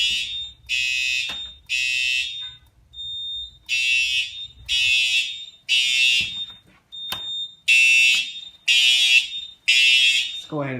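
A building fire alarm sounds during a system test, a loud shrill electronic tone blaring in repeated pulses of about a second with short gaps, heard close up indoors near a bathroom.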